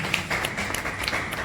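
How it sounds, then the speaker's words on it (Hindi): A brief burst of crowd clapping at a poetry recital, steady and fairly close, with many hands patting together in a dense, even patter. "तालियों के साथ डॉक्टर दुबे को हम मंच पर देखेंगे।"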